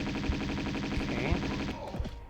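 Gunfire in Tomb Raider 2 inside the Living Quarters level, a few sparse dull shots spaced roughly half a second apart beneath a steady tonal game music bed, fairly quiet and distant-sounding.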